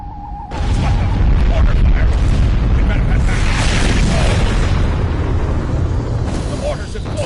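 Mortar explosions closing a mountain pass in the game Star Trek Online, a loud sudden boom followed by sustained heavy rumbling and debris roar that slowly fades, with a brief tone before the blast.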